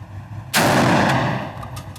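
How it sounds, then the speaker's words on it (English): A Mossberg 940 Pro 12 gauge shotgun fires a single loud, close shot of Remington buckshot at an outdoor range, the sharp blast followed by a long ringing decay. "We're going to start out with some Remington buckshot."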